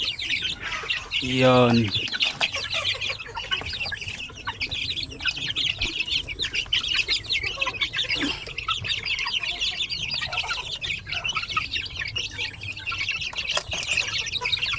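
Basilan and oriental breed chickens cluck close by in repeated soft bursts, with a brief call standing out early and a short spoken word.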